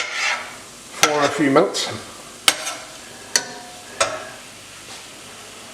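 Chopped ingredients fry in a pan on medium heat for enormous Italian meatballs with tomato and mushroom sauce, a soft sizzle broken by sharp scrapes and knocks of a utensil against the pan, while a voice talks briefly.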